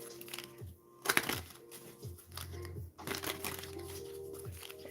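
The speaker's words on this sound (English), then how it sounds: "I'm gonna do a few more shuffles and we'll get started." A deck of tarot cards is shuffled by hand in several quick riffling bursts, close and soft, with a quiet papery crinkle between them and no talk over it.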